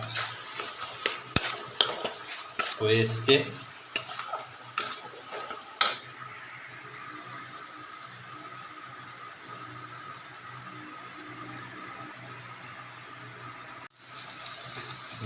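Pressure-cooked taro stolons stirred in a kadai: a burst of metal spatula clinks and scrapes for the first few seconds, then a steady, soft frying hiss continues alone, with a brief spoken remark.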